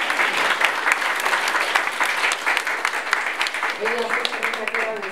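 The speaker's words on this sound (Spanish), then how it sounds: "Recibámosla con un aplauso." A room full of people applauds at a special program event about girls in STEM, a dense, steady wash of clapping that holds throughout, with a voice speaking briefly near the end.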